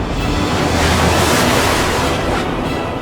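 Stormy sea waves as an animated sound effect, a loud, dense roar of surf and wind washing continuously for a few seconds with no voices.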